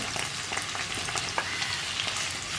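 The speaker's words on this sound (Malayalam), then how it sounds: "ഒരു 3-4 മിനിറ്റ് വഴുതനങ്ങ എണ്ണയിലൊന്ന് വഴറ്റിയെടുക്കണം" Pieces of brinjal sizzle and crackle in hot oil, with occasional soft stirring scrapes, close and steady.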